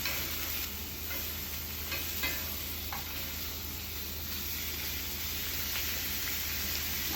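Pickled bamboo shoots are stir-fried with curry paste in a pan, giving a steady, soft sizzle with occasional scraping stir strokes throughout, fairly quiet and without talk.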